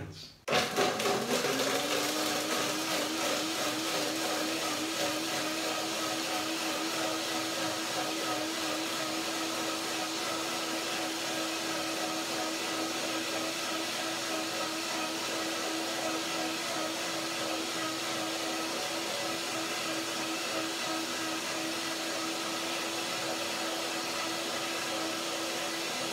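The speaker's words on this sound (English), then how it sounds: "Let's blend it up and see what happens." A blender whirs steadily through a batch of apricots, lime, almonds and water, the motor spinning up sharply at the start and then holding a loud, even drone for the rest of the run, with no talking.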